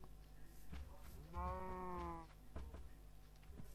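A cow in the Minecraft video game gives a single drawn-out low moo with a harmonic tone, fairly close, among faint game ambience with brief clicks.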